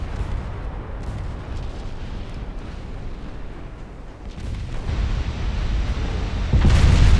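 Warship secondary guns firing in Ultimate Admiral Dreadnoughts give a dense, rumbling barrage of distant booms and bursts, growing louder and heavier toward the end.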